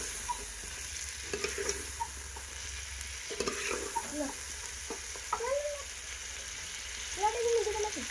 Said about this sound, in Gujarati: હવે એને હલાવી દેવામાં આવશે એટલે બધો મસાલો બરાબરનો મિક્સ થઈ જાય.